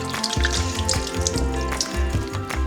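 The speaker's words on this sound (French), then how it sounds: "je me les rince plutôt à l'eau là les mains" Hands are rinsed under running tap water in a home kitchen, a loud, close splashing stream with irregular bursts as the hands move through the flow, with no voices.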